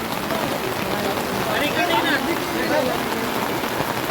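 Steady rain falls during an outdoor boat inauguration at Kasa, forming a continuous hiss with nearby voices talking over it throughout.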